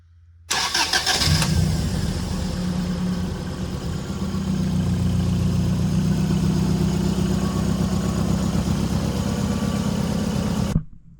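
A Toyota Corolla with a 3SG Beams engine cranks briefly, catches and settles into a steady, loud idle that holds for about ten seconds before cutting off abruptly, heard close up with no talking.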